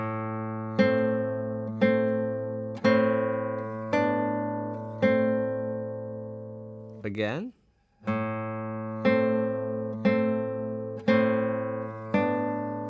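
Plucked nylon-string classical guitar plays a short passage from the waltz "Vals" in steady, evenly spaced notes that ring and decay, repeated after a brief pause in which a voice speaks a single word.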